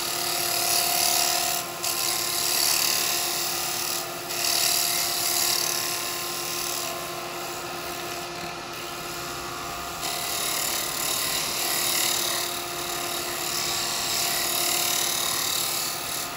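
Wet eucalyptus cowboy hat spinning on a wood lathe while being sanded, a steady whining, hissing drone that holds close and continuous throughout with slight dips in intensity.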